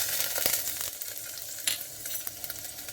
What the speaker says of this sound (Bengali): তেলের মধ্যে জিরে ফোড়ন দিয়ে দিলাম